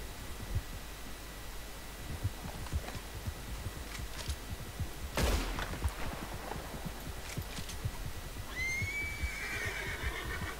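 Horse in the video game Red Dead Redemption 2 gives a rising whinny near the end, over steady clip-clop hooves and cold wind noise on a snowy mountain pass.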